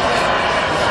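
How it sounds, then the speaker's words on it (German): A large RC model impeller jet engine spools up at an outdoor jet model fair, a loud, steady broadband roar that fills the whole moment without pause. "Wir versuchen auch jetzt gleich nochmal den Start eines Impeller-Jets."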